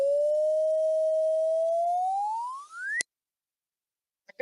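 A steady electronic tone sonifying a cubic graph (x cubed) holds nearly level, then bends sharply upward in pitch and cuts off with a click, followed by brief faint noises.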